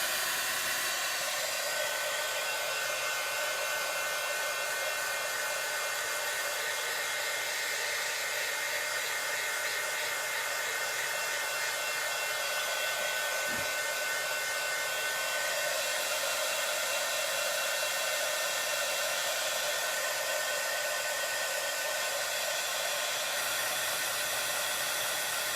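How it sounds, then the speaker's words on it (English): A heat tool blows hot air to dry chalk paste in a crafting project, making a loud, steady whirring hiss that runs unbroken for the whole stretch, with no one speaking. "I'm gonna go ahead and use my heat tool again and make sure that the chalk paste up here is all nice and dry."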